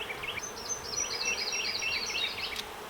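Honeybees swarm over frames during a hive inspection, giving a steady, close insect hum with bright, overlapping whining tones that persist without pause across the whole moment.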